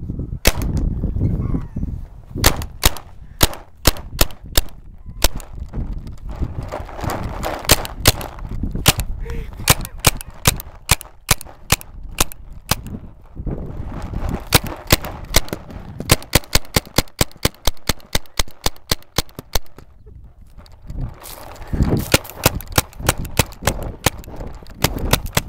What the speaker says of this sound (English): Let's See How Many Rounds of Paintballs It Takes to Get Dora Off Church Property